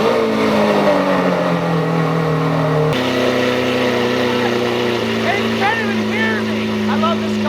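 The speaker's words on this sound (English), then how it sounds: "This is the cold startup." A Lamborghini Aventador V12 cold-starting at night, a loud, steady engine drone that steps up in pitch partway through, with voices and some higher chirping sounds over it.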